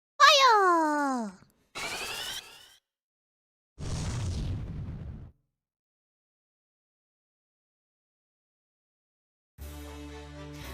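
A fire spell from Final Fantasy IV erupts once as a short, loud, rumbling burst, set among other separate chiptune-like game effects.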